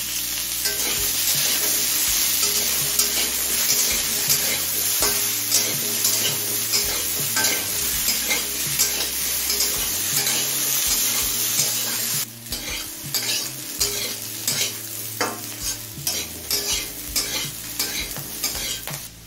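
Slit green chillies fry with vegetable stalks and potatoes in a pan, a loud steady sizzle broken by repeated rhythmic stirring scrapes, softening briefly partway through before the stirring resumes.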